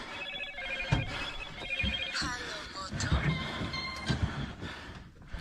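A phone ringtone plays as a repeating pattern of bright electronic tones with voices talking over it.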